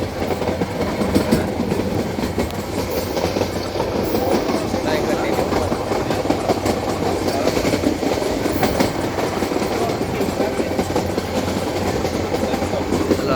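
Passenger train rolling steadily along the rails with a continuous low rumble and faint clickety-clack, heard from inside a carriage on a trip in Gujarat, with some voices murmuring underneath.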